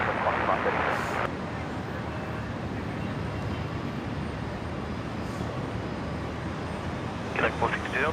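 A Qantas jet takes off from runway 01 right at Brisbane Airport. A continuous broad jet-engine roar fills the whole clip, with brief radio chatter from air traffic control at the start and near the end.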